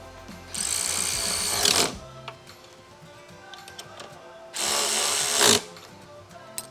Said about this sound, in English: you can use a battery ratchet that I end up using